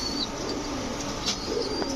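Palla line pigeons coo softly in a loft, green-necked males and hens kept together, a low steady murmur with a few faint chirps over two seconds.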